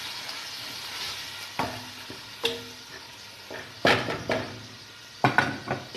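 Fried onions and tomato simmer in an open pot, a soft sizzle running under intermittent clinks and scrapes of a utensil against the pot.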